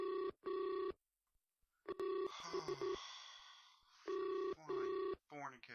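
Telephone ringing in repeated loud electronic bursts with short gaps, interrupted midway by a noisy scrambled sound, close and clear.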